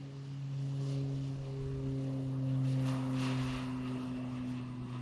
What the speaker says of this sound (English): here's our Beach 200 on takeoff roll